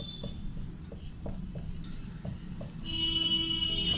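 Pen or marker writing out an answer by hand during a Class VIII Sanskrit lesson, a series of soft, evenly spaced scratchy strokes, close and quiet, with no one speaking.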